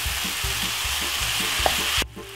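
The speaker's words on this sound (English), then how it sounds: "So you're gonna brown up this for roughly about 5 to 6 minutes." Minced meat seasoned with paprika browns in a pan for spaghetti bolognese, giving a close, steady sizzle broken by rhythmic stirring scrapes. It cuts off abruptly near the end.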